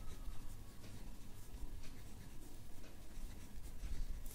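Pen scratching steadily across paper while a maths solution is written out, a continuous close scraping texture with soft irregular strokes and no voice.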